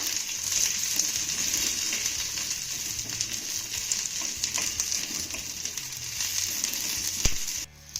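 Garlic cloves stirred into browned onion in a hot pan, frying with a steady, close sizzle and soft scraping stirs throughout, ending in a brief knock near the end.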